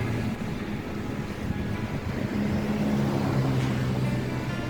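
A tugboat pulling a coal-laden barge rumbles past on a river under a bridge, its engine a loud, steady low drone mixed with wind and water noise, no voices heard.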